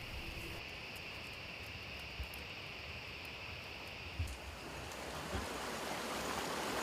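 A foaming hill stream rushes steadily over rocks near wet paddy fields, a dense broadband wash of water with a few soft splashes and knocks rising briefly out of the constant roar.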